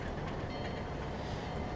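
A train in the Trainz 2022 simulator pulls forward during yard shunting with flat cars. It makes a steady, unbroken rolling rumble with no voices.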